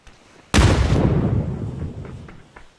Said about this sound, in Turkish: C4 geliyor. Biri C4 attı.